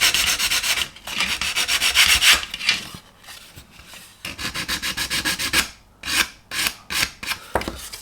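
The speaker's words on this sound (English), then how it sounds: "So I've gone to a 100 grit to deal with that." Steady back-and-forth scraping of 100 grit sandpaper on a plastic 1/200 Heller Elizabethan model ship hull, in fast rhythmic strokes, close and loud, pausing briefly before resuming in shorter bursts.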